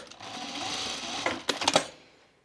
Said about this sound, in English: tacking it with the machine is just, it's really nice